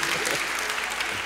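Brief burst of studio audience applause, many hands clapping densely and evenly at close range throughout.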